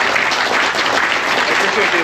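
Audience applause following a motorcycle rally presentation at the 2022 Touratech Rally, a dense, steady wash of many hands clapping at full volume for two seconds, with some crowd voices mixed in.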